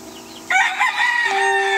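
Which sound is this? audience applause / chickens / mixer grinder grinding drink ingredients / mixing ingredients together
chickens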